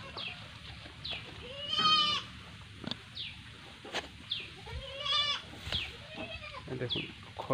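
Black Bengal goats bleat repeatedly at a farm, several close wavering calls spaced a second or two apart, with occasional rustling and a chicken faintly in the background.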